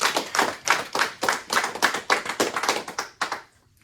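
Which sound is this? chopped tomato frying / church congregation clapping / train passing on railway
church congregation clapping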